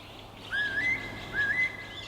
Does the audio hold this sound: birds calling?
yes